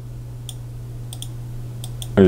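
Mouse clicks in the Crouzet M3 Soft simulation: several sharp, isolated clicks spaced irregularly over a low steady hum, with a voice starting at the end.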